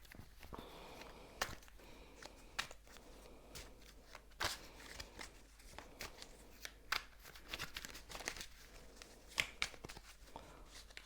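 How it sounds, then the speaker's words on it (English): Tarot cards shuffled by hand, soft riffling and sliding with scattered sharp taps and flicks in an irregular rhythm, close up and quiet, with no talking. "So I'm going to shuffle a little bit more"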